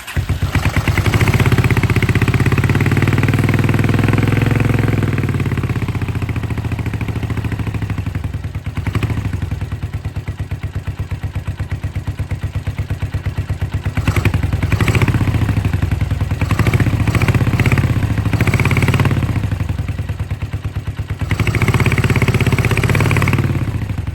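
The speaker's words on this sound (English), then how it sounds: "I'm gonna go ahead and start it up and see what the new exhaust sounds like" A 1983 Honda GL650 cafe racer motorcycle runs on a new exhaust, a loud, close, steady idle with a rough, uneven pulse and a few dips in engine speed. No one speaks.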